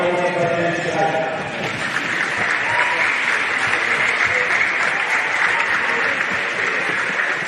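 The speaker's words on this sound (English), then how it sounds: "Let's give everyone a round of applause today." Sustained audience applause at a futsal league final, a dense, steady wash of many hands clapping from start to finish, loud and close, with faint voices mixed in.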